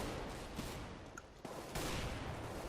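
Rapid automatic rifle fire from Counter-Strike: Global Offensive, a dense continuous rattle of shots with a brief lull before a loud burst resumes, played alone without voices.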